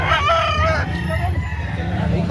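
A rooster crows once at close range, a loud strained call lasting under a second, followed by a steady farmyard background.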